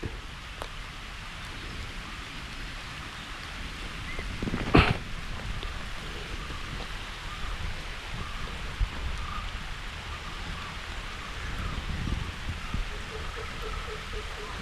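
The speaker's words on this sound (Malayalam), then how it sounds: "അടുത്ത മഴ സ്റ്റാർട്ട് ചെയ്തു" Steady rain falling outdoors during a fishing outing, a constant hiss of drops under faint background noise, with one sharp thud partway through.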